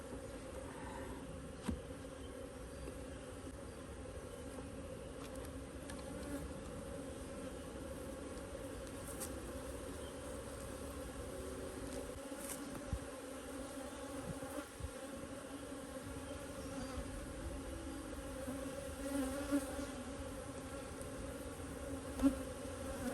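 A vertical honeybee cluster hums inside an opened early-spring hive, a faint, steady low buzz with occasional soft knocks from frame handling and no voices.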